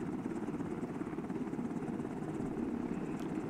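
An MH-60L Black Hawk helicopter flies in the Arma 2 video game, its rotor giving a steady, loud, continuous thudding drone that fills the whole stretch without pause.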